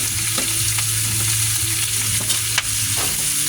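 Pork humba frying in a pan, a loud, steady sizzle that runs throughout, with faint stirring and one sharp click near the end.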